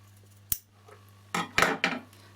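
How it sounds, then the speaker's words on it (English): Scissors cut back fabric to the stitching in a sewing room, giving a sharp snip followed by a few quick close cutting crunches, with no talk. "I would cut it right back to my stitching"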